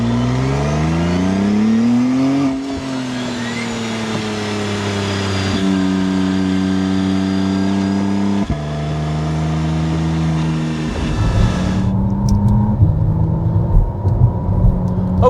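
A McLaren Artura Spider drives with its engine note rising and falling through gear changes, loud and close, with a clear tonal whine that climbs steadily, then a rougher off-throttle crackle near the end.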